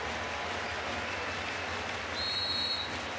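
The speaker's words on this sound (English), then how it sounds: "Applause for the 2 teams." Handball arena crowd at a European championship final applauding the two teams, a steady, distant wash of applause filling the hall, with a brief whistle near the end.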